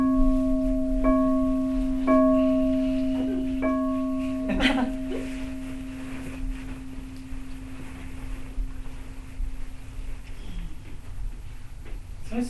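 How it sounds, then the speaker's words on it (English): A meditation bell struck three times in quick succession, each clear ringing tone sustained and slowly fading over several seconds in a quiet room, with faint rustling afterward. "Guess I better ring this bell."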